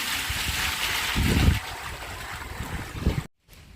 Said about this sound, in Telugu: కేసరి వాటర్ కూడా పోసేస్తాము